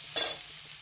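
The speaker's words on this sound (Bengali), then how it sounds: "সবজিগুলো মোটামুটি এরকম করে ভালো করে নাড়িয়ে চাড়িয়ে নেব" Vegetables stirred in a hot pan for chilli chicken, a single short hissing sizzle as they are turned, then a faint low hum.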